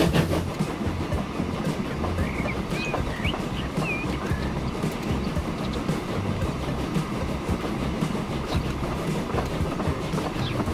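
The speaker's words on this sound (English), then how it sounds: "that's an awesome sounding train" A train runs steadily in the Transport Fever 2 game, a continuous rumbling roll with rhythmic clickety-clack and faint bird chirps over it, no speech.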